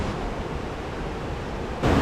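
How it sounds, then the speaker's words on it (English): Steady, broad rushing roar of a waterfall on the Mekong River at the 4000 Islands in Laos, heard from a distance, with a surge of wind buffeting the microphone at the end. "Just behind me is the waterfall we've been looking for."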